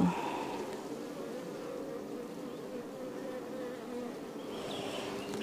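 Honey bees buzz at a well-stocked beehive, a continuous soft drone of many wings humming steadily throughout with no talking.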